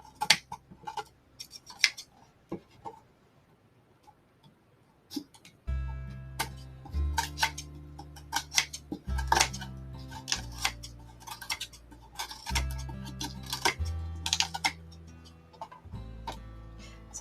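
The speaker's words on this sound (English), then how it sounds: "I can go in with my scissors now, maybe clean it up a little bit more." Scissors trimming the cover of a junk journal made from a gift bag box: sparse small snips and clicks at first, then repeated cuts over low background music, close and quiet.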